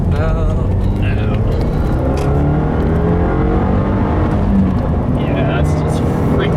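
A 2015 Subaru WRX with Michelin Pilot Super Sport tires and a Stage 1 tune pulls hard at full throttle in second gear, a loud, continuous engine drone heard from inside, with a voice talking over it.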